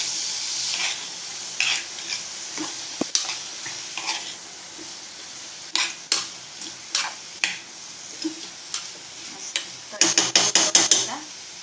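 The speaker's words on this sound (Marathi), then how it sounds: "त्याचे छोले घालून घेते मी. मस्त असं हलवून घ्यायचं." Chickpeas for chhole being stirred in a pot, with repeated scraping and clattering strokes of a spoon against the metal over a low sizzle, growing into a quick burst of rapid knocks near the end.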